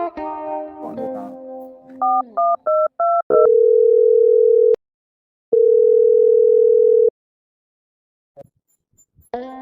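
A telephone dials out with a quick burst of keypad tones, then long steady ringback tones sound loud and clear, separated by silence.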